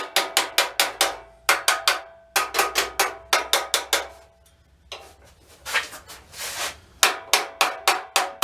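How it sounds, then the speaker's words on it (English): Light hammer taps on a portable generator part, knocking it loose without damaging the gasket: quick bursts of sharp metallic ticks in clustered groups, a brief scraping pause midway, then another run of evenly spaced taps, close and clear. "A couple little taps, try to break it loose without wrecking the gasket."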